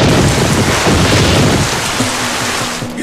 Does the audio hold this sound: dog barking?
no